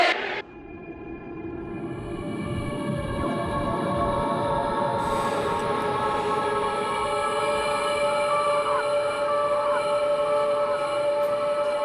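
An elevated subway train in Queens rumbles past steadily with rattling wheels and a sustained high metallic whine from the rails, loud and close, with no talking.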